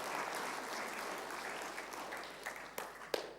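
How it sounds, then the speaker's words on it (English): Audience applause for a stage decorator at a live presentation: a steady wash of fairly faint, distant clapping that thins toward the end, with a few sharper individual claps standing out. "Round of applause for our stage decorator."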